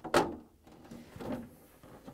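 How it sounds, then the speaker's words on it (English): A plastic freezer drawer in a GE refrigerator is pulled out, with a sharp scrape followed by a softer sliding rattle a second later, close by in a quiet room. "Now I'm going to remove the drawer from the freezer."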